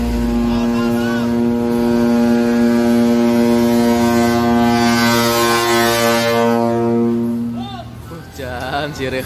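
A loud, long ship horn blares steadily for several seconds, a deep droning tone, then fades as voices begin to talk.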